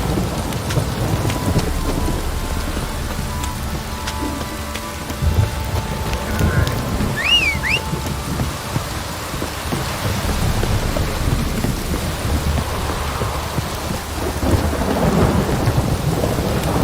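Steady heavy rain pours throughout with rumbles of thunder rolling underneath in The Witcher 3: Wild Hunt, a constant dense wash with a few brief electronic chirps over it.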